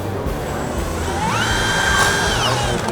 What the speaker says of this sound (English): Drill your hole. No center punch needed.